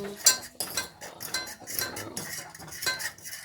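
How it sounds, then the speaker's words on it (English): Egg yolks are beaten in a large bowl, with quick clattering taps of a utensil against the bowl in an uneven, busy rhythm, close and fairly loud. "in a large bowl, beat the egg yolks for about 1 minute or until they're pale and creamy."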